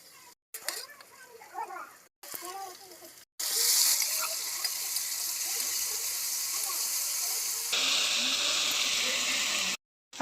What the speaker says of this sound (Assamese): ইয়াতে আদা নহৰুখিনি দি দিওঁ